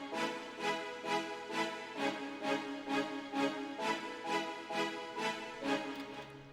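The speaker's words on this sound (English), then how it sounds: "I have strings from Nexus, which sound like this" A Nexus synth strings patch for a futuristic trap beat, swelling in a steady rhythmic pulse of repeated chords, moderately quiet and alone.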